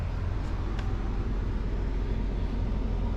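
Air conditioner running off a solar battery bank aboard a shanty boat, a steady low droning hum and broadband whoosh with no change in level through the short stretch.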